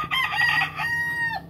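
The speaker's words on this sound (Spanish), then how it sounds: "Miren qué salud tiene ese gallo ya." A healthy fighting rooster crows once at close range, a loud, drawn-out cock-a-doodle-doo that fills the short moment on its own.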